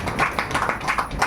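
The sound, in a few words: audience clapping hands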